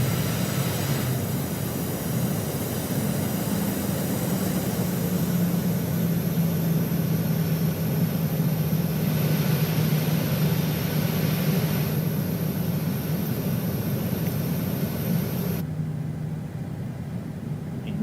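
A PMDG Boeing 737-800 taxis in Microsoft Flight Simulator 2020, its steady jet engine hum and whine running continuously at moderate level, with a cockpit tone cutting off near the end.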